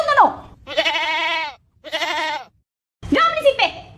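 A goat bleats in two long, wavering, nasal calls at close range, each about a second long, with a short pause between them, followed by a brief burst of human voice at the end.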